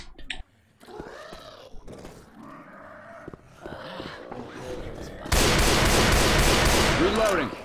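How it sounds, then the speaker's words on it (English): Gunfire in the zombie shooter Left 4 Dead 2: a few sharp shots amid game noise and growls early on, then a dense, loud burst of continuous firing for the last couple of seconds. "Would you mind not shooting me, please?"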